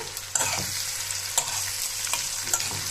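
Fish belly frying in a pan with a steady sizzle throughout, interrupted by several sharp scraping stirs from a utensil against the pan, close and moderately loud with no talking.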